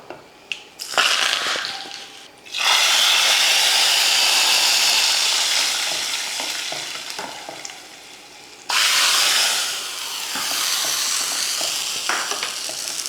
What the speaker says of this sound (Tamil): கொஞ்சம் கடுகு கருவேப்பில் போட்டு கடைசியாக தாளித்து ஊற்றினோம்னா டேஸ்ட் சூப்பராக இருக்கும்